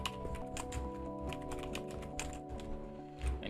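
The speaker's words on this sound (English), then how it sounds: "I'm going to type" Someone types on a computer keyboard, producing a steady run of light, quick key taps over a constant low tonal hum.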